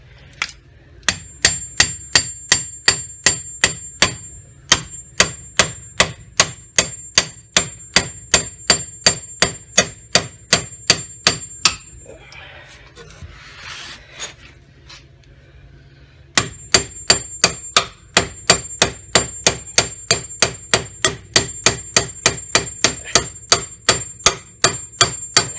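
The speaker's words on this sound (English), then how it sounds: "just put the pickle fork in and hammer the pickle fork" A hammer drives a pickle fork into the steering knuckle of a Ford Escape during a wheel bearing job, sharp metallic blows in a fast steady rhythm, about one every half second, pausing briefly midway before resuming.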